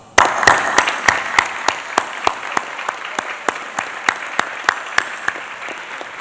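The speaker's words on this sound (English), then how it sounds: "So for now, please accept our love and applause." Applause at a graduation ceremony: a small group claps in a steady, fairly slow rhythm, individual claps distinct and close, thinning gradually toward the end.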